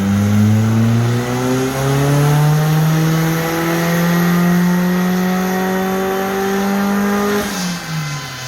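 A loud turbocharged engine in a Locost kit car with a forged build holds a steady high rev with strong harmonic tone, rising in steps during boost mapping, then drops sharply near the end as the throttle closes.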